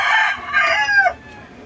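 A Kelso Sweater gamefowl rooster crows once, near and loud, a strained cock-a-doodle-doo of about a second that breaks off and leaves a quiet pause.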